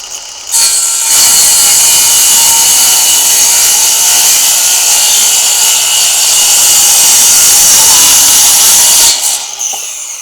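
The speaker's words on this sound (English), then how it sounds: "we're gonna cut this hardwood. So let's see how the saw behaves in the hardwood" A Ryobi 18V 165mm cordless circular saw, model R18CS, cuts through hardwood with a loud, sustained whine and rasping bite for about eight seconds, starting abruptly and spinning down at the end.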